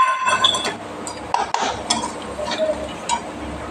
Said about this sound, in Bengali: এবার দিয়ে মশলাটা কষাতে থাকবো।